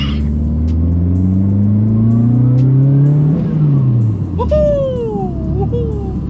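A high-powered car engine, a 400-plus horsepower build with large injectors, revs up loudly after a shift into second gear, its tone climbing steadily for about three seconds before dropping off under continuous close engine rumble.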